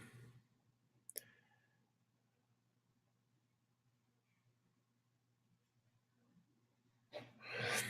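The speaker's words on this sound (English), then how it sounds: "So I go ahead and click assign." A single sharp mouse click sounds close by in a quiet room with a low background hum, followed later by a louder burst of breath or rustle near the end.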